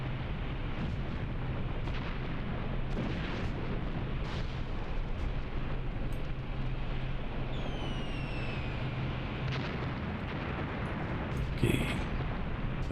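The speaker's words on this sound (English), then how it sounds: "barrage coming in there and up here as well" An artillery barrage in the Graviteam Tactics war game rumbles continuously, with heavy distant explosions rolling one into another, scattered sharper bursts, a brief whistling streak midway and a louder blast near the end.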